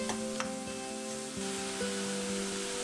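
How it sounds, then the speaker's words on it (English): Minced pork stir-frying with garlic in a hot pan, giving a steady, even sizzle that holds throughout with faint stirring scrapes and no talk. "Stir fry the meat till it's entirely cooked"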